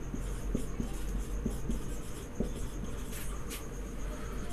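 Pen or marker strokes on a writing surface during a chemistry lesson, soft intermittent scratches and taps spread across the clip over a steady low background hum.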